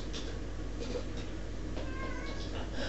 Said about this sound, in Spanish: Puede estar nervioso su maullido